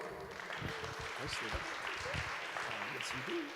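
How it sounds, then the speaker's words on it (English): Faint applause patters beneath a voice that keeps talking, the clapping distant and scattered throughout. "Round of applause."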